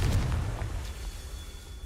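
Confringo blasting spell in the Hogwarts Legacy video game, a single deep boom at the start that rumbles and decays quietly over a couple of seconds.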